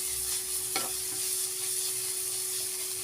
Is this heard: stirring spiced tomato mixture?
yes